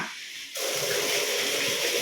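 Water gushes loudly and steadily from a tap while bottles are washed, after a brief quieter start, a continuous rushing spray close by.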